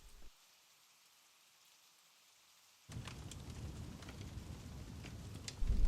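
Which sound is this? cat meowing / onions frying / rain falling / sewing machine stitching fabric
rain falling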